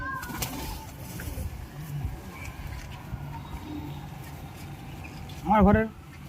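A domestic pigeon of a fancy breed gives one throaty, warbling coo near the end, loud and close, after several seconds of low background rumble and faint voices.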